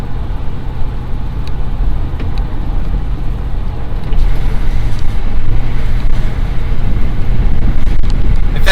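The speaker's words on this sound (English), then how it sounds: "a really fun truck to drive. It's very fast, and it even sounds good." A Ford 6-liter diesel truck engine rumbles steadily at close range, a low droning throb that grows slightly louder and heavier about halfway through, with road and wind noise around it.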